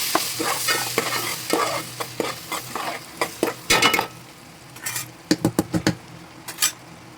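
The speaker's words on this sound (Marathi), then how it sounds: "आपण मसाला पटून घेऊया" Thick masala paste for a crab curry stirred and sautéed in a pan, with a run of scraping spatula strokes and soft sizzling, the strokes coming in uneven bursts and close to the ear.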